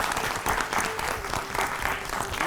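A quiz show studio audience breaks into lively applause, with many hands clapping densely and continuously, loud and close, and faint voices mixed into the crowd noise.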